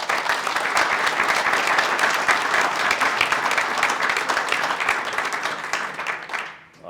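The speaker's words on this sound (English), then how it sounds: "Let's give them a round of applause." Conference attendees at a safety panel give the panelists a round of applause: sustained, dense clapping from a sizable crowd, steady and fairly loud, fading out in the final moment.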